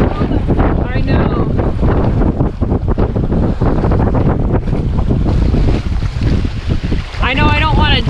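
Strong wind and choppy water slap against a canoe during a storm on the Yukon River with roughly three-foot waves, a loud continuous rush of wind noise and splashing throughout, with voices briefly audible.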